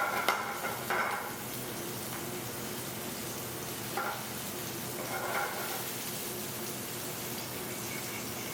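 Red onion frying in a pan for a prawn dish in an Italian restaurant kitchen, a steady soft sizzle with occasional stirring scrapes and clatters.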